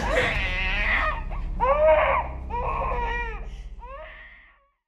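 An infant wails in several loud, strained bursts, the cries rising and breaking between breaths, close by and with no talking.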